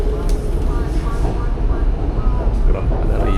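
Train ride in Thailand, a steady loud rumble of the carriage running along the track with faint squeaks, while people talk over it.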